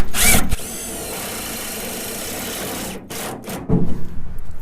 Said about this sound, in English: installing one of these self-tapping screws through the lip of that wheel well